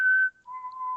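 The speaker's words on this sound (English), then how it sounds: "Can you do that whistle real quick?" A person whistles a short two-note tune, a higher note sliding down to a steady lower one, close and alone.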